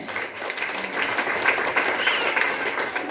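A crowd at an event applauds loudly for a cause, a dense, continuous clatter of many hands clapping nearby that holds steady for the whole stretch with no voices over it.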